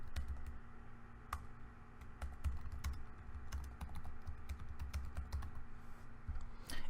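Steady typing on a computer keyboard while writing the body of an email, with continuous close key clicks over a constant low hum, and no talking.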